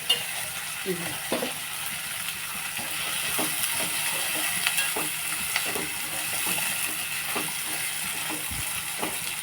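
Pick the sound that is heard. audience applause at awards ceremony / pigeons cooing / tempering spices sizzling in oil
tempering spices sizzling in oil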